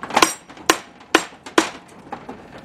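Metal blows from a hammer beating the front bearing out of an SM465 manual transmission during disassembly: four sharp, loud strikes at an uneven pace, followed by two lighter taps.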